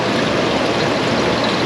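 Hot engine oil pours steadily from the open drain plug of a car in an auto repair shop, a close, continuous splashing trickle that holds even throughout with no talk over it.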